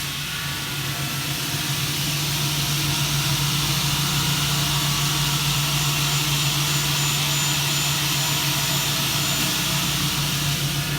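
METEOR-1 (420) cutting saw motor running steadily with a constant hum and broad high whine throughout, loud and continuous with no talk.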